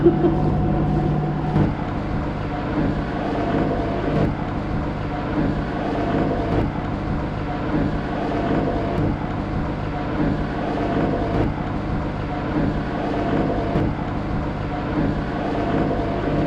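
A sailing yacht motors through a big swell on approach to Valletta, its engine a steady low drone under constant wind rush, continuous and fairly loud throughout.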